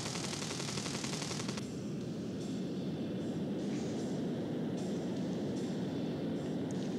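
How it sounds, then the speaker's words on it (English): Minigun fire in the flight-building game Simple Planes, a dense continuous roar of rapid shots with a harsh rattling onset that settles into a steady, sustained rumble throughout. "Let me shoot my miniguns off on the ground."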